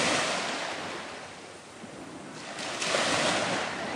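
Surf rolls steadily onto a tropical beach on a calm October day, a continuous broad wash of breaking waves with wind in the background and a slight swell in loudness near the end, no voices.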